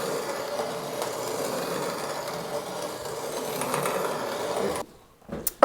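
Hand-operated mill grinding parched corn, a continuous rattling, crunching churn with faint rhythmic clicks that runs quietly for about five seconds and then stops abruptly, leaving a few small knocks.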